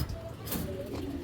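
Strong old-bloodline pigeon cooing, a low steady murmur running through the short stretch at moderate loudness over a dense room background.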